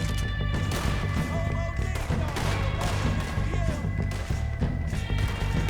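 Gunfire from Red Dead Redemption 2 rattles through a dense, continuous battle, shots and thuds overlapping closely in a loud, busy mix.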